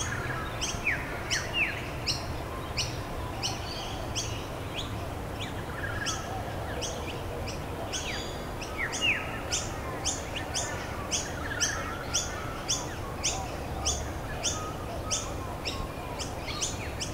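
Birds calling and chirping at Norfolk Lakes, with repeated bright chirps and tweets over a steady outdoor wash, fairly continuous and at moderate distance across the whole stretch.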